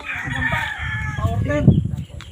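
A fighting rooster crows loudly and close, its drawn-out call rising over other clucking fowl and background chatter from the poultry yard where game birds are kept.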